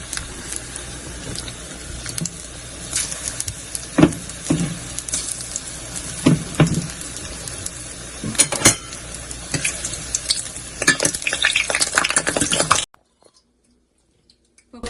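Pakora batter fries in hot oil with a steady, close sizzle and occasional clinks of a spoon or pan for about thirteen seconds, then cuts to near silence.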